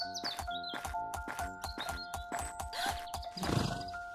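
Horse sound effect for an animated story about a king, a rapid run of regular clip-clop hoofbeats ending in a short neigh, loud and close.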